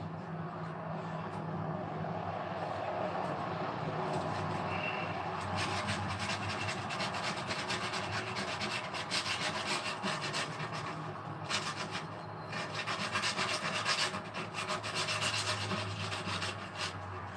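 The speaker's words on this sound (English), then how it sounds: "Oh look, he's sanding over the pop rivets." Steady abrasive rasping of sanding over metal pop rivets, continuous and fairly close, with no talk over it.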